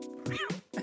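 Cats meowing in a video game level, several close, loud meows in quick succession with short gaps between them, no talking.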